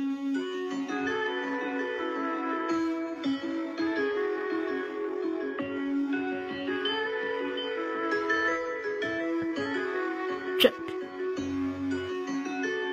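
A looping hip hop beat with sustained melodic layers and light hi-hat ticks, steady and fairly loud throughout, with one sharp hit near the end.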